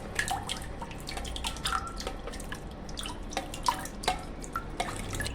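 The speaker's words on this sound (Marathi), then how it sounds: "आपण ना छान असं घुसळून घ्यायचं आहे" Curd and water being churned into buttermilk, producing repeated wet sloshing and dripping splashes in an irregular rhythm, close and moderately loud without any talk.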